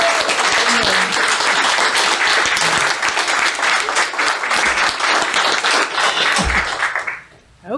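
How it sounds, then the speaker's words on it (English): A conference audience in Las Vegas gives a loud standing ovation to first responders. Dense, sustained applause fills the room for about seven seconds, with some voices mixed in, then fades quickly at the end. "Just give them a round of applause for saving lives and keeping you guys safe."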